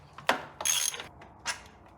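A socket wrench works engine bolts during a Porsche engine swap, giving a few short metallic ratcheting clicks and bursts in close quarters, with no talk.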